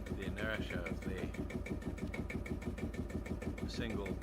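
A vintage single-piston tractor engine runs with a steady, rapid chugging pulse that stays loud and close throughout, with faint voices underneath.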